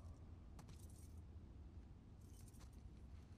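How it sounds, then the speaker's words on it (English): Keys jangle softly in The Last of Us Part 2 as a set is tried in a lock, two brief metallic rattles over a low background hum. "Try those keys?"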